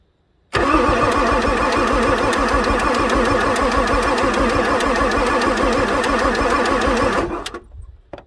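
A starter motor steadily cranks a tired 1994 Ford F450 7.3 diesel, fast regular chugging for about seven seconds without catching, then cutting off, loud and close.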